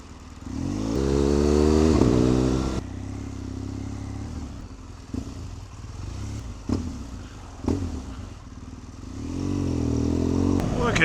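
Motorcycle ridden through traffic, engine revving up and easing off with wind rumble and a few knocks and clatters, close and loud at the start and end.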